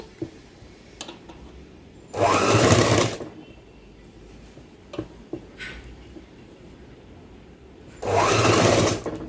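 A sewing machine stitches a baby gown in two loud, steady bursts of rapid whirring, each about a second long and separated by quiet handling clicks.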